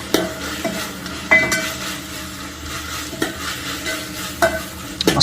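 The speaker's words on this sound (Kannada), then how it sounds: "ಈಗ ಮಸ್ತ್ ತಿರುಗಿಸಿ" Onions and tomato fry in a pan while a utensil stirs them, giving a soft steady sizzle broken by repeated sharp scrapes and clinks of the spoon against the pan.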